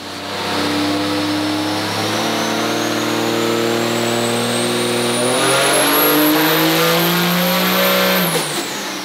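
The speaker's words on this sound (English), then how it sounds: "So we're going to put this thing through its paces on the dyno today" A 1607-horsepower 6.7L flatbed truck with a G56 manual gearbox roars on a dyno. The engine tone climbs steadily for about eight seconds, loud and close, and then drops off sharply as the throttle is released.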